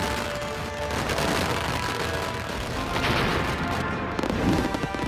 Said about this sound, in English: every kind of firework you can imagine.